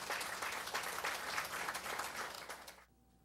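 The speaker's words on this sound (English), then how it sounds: "So give Trinidad and Tobago a round of applause." A news-event audience gives a round of applause for Trinidad and Tobago, a dense, steady wash of clapping that runs close and loud for about three seconds before cutting off abruptly into near silence.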